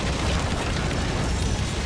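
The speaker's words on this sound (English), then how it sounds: "so that the explosions don't affect me" Grenade explosions in the Spider-Man The Movie video game, a dense, loud, sustained blast of noise filling the whole short stretch with no talking.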